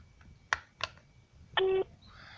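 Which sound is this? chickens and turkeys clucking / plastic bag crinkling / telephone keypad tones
telephone keypad tones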